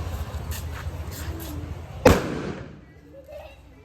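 A carbide gun fires one sharp, loud blast midway, the bang ringing out and decaying over about a second, with muffled chatter and background noise before it.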